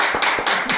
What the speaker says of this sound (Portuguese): Orlando Vigiani, uma salva de palmas, cara.